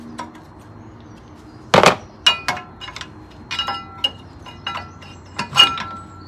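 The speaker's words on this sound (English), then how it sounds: "we'll just get a screwdriver in behind, slide them out" Metal brake pads on a Volvo V70 rear caliper are pried and slid out with a screwdriver, giving a series of sharp, close clinks and scrapes with short pauses between them.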